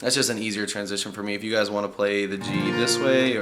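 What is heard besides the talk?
No everyday noises stand out.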